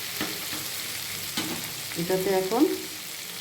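Spices fry in a pan for a homemade masala. A constant sizzle is broken by a few sharp stirring scrapes, and a voice talks briefly near the end.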